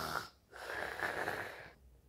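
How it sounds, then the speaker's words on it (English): A sleeping person snores close by, a rasping, wheezy breath rising over about a second and a half after a brief pause, then trailing off. "The snore."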